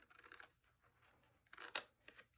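Paper trimmed for a tag album, with quiet scissor snips and light rustling followed by a sharper, louder cut near the end, close and without talk.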